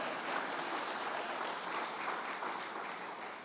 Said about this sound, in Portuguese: As palmas para o Senhor, por fé.